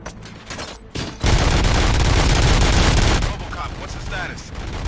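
In the video game RoboCop: Rogue City, a loud, sustained burst of rapid gunfire roars for about two seconds, preceded by a few scattered shots and fading into a rumbling tail.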